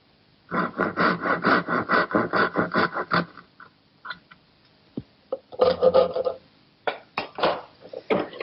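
A hand tool rasps against a beveled wood piece for a doll house, removing part of the bevel in a rapid run of rhythmic scraping strokes, then scattered shorter rubs after a pause, close and fairly quiet.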